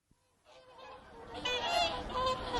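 Several swans honk in a noisy, overlapping cluster, growing louder partway through and continuing without pause.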